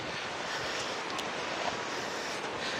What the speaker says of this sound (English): It is very breezy at the moment.